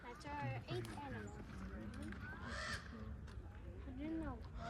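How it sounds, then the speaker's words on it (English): A raven caws several times in a wooded area, with hoarse calls rising and falling at moderate distance while people talk over them. "That's a raven. That's a raven."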